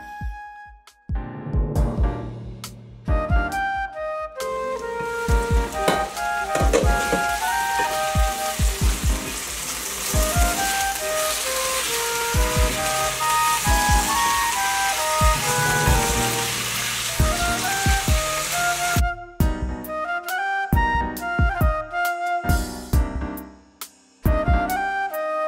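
Spam and potatoes fry in a hot pan with a steady, loud crackling sizzle that runs for most of the time, broken by a few gaps and clinks near the start and end.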